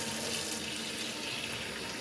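Water runs steadily from a tap into a sink, a constant close hiss and splash with no pauses or voices over the short stretch.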